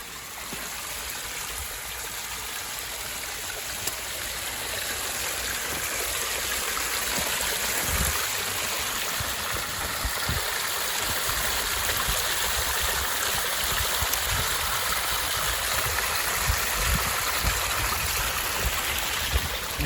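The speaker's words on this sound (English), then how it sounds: "you see there's water like crazy rushing down" A creek runs high with water rushing downstream in a steady, dense roar that swells slightly and then holds without break. It is close and loud, with faint low knocks beneath and no voices.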